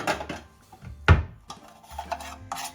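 Marinated chicken, with sesame oil, wine and cornstarch, is mixed in a bowl, giving a few uneven clinks and scrapes of a utensil against the dish, with one sharper knock partway through, close and fairly loud.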